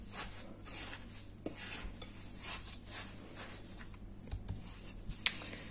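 Ghoriba dough ingredients, with coconut and cocoa, being mixed in a bowl, quiet scraping and stirring with light clinks against the bowl over a low background hum.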